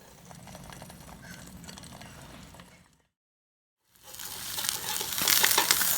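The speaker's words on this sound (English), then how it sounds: "So once your oil is hot, go ahead and add the egg." An egg frying in hot oil makes a crackling sizzle that cuts out briefly, then returns louder and brighter as the spatter intensifies.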